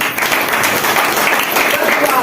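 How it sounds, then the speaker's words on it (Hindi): A seminar audience at a DXN business talk breaks into brief, dense clapping, a steady wash of applause at close range that stays even for a couple of seconds. "जोरदार ताली मारिए"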